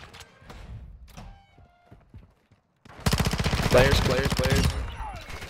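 Shotgun gunfire in a video game, a dense burst of loud, rapid blasts after a quieter stretch with light clicks and a short spoken word.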